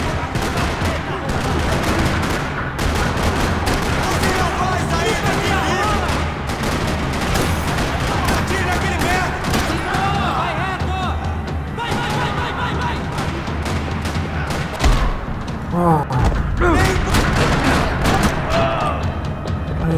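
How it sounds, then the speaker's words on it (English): Sustained gunfire in a parking lot in Max Payne 3, with dense bursts of automatic fire and single shots, booming impacts and clatter throughout, loud and close, with brief voices mixed in. "Another parking lot rattling with gunfire."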